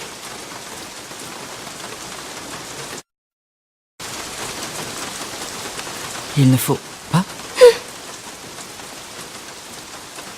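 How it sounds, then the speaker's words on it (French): Heavy rain pours down in a steady broadband hiss, cutting out for about a second, then returning. Voices speak briefly over it. "la pluie tombe encore plus fort"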